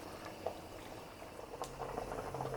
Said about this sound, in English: now that our water has come to a boil, let's go ahead and let these cook for 15 minutes